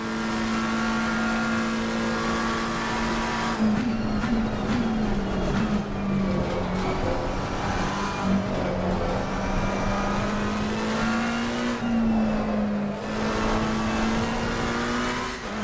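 A McLaren race car engine from Assetto Corsa Competizione drones steadily at high revs. The pitch rises and dips as the car shifts and slides. It plays alone, with no talking.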